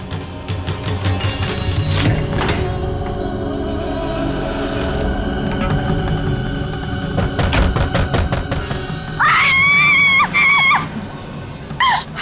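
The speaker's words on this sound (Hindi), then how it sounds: "चिल्ला मत, भूत नहीं आ जाएगी।" A frightened woman screams loudly in a tense indoor scene, with thuds and bumps between outbursts and a sharp wavering cry near the end.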